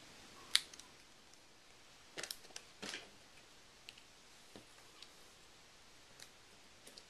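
Paper cardstock for a banner is trimmed with scissors in a quiet room, giving a few faint, close snips and clicks, one sharp snip followed by short clustered cuts and scattered light taps.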